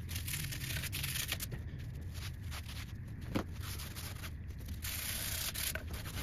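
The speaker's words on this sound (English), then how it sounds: "it sounds like some paint coming off. Just in the way it scrapes." Paint scraping off rusty home gym equipment, a steady rough rasping and rubbing that continues throughout at moderate level, with a few sharper scrape accents, no talking.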